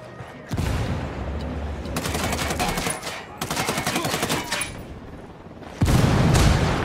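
Loud bursts of rapid automatic gunfire and a heavy grenade explosion in the Spec Ops video game, with several close volleys in a row and a deep boom near the end.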